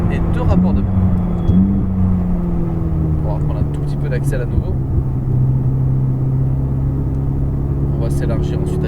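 A Ferrari F488 on a rain-soaked circuit revs and accelerates, its engine note rising steadily from inside the car as someone talks over the drone, with a brief gear change early on.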